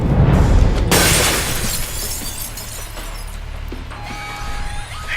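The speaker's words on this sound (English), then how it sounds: "you might be able to find a way to break the glass" A glass window shatters in the video game Alpha Protocol, a loud crash followed by tinkling shards that fade out over several seconds.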